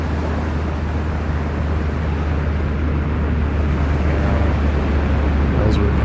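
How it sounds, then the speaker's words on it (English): Wartime aircraft coming in over the D-Day invasion beaches, recreated in a VR museum, a steady heavy low drone that stays loud and constant throughout. "Planes coming in."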